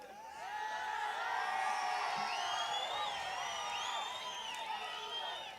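A large crowd of boys shouting, whooping and cheering at a political rally, rising and falling cries layered over steady crowd noise, loud and sustained with voices talking among them.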